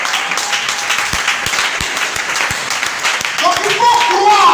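Church congregation applauding to acclaim the Lord during a French-language sermon, a steady wash of clapping with a few sharper claps, swelling slightly louder toward the end.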